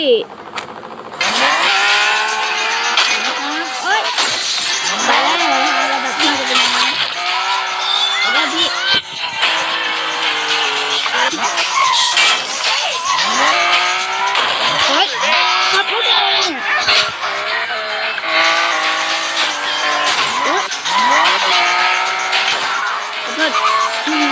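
A car engine revs and drives in the game GTA San Andreas, loud and continuous with rising and falling pitch and repeated bursts that suggest impacts, while a person talks throughout.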